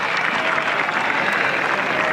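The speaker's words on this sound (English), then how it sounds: "Listen to the ovation. That's for Rory McIlroy as he departs the 14th tee." Golf spectators at the Masters give Rory McIlroy a sustained ovation as he leaves the 14th tee, a dense, steady wash of applause and crowd noise that holds at one level throughout.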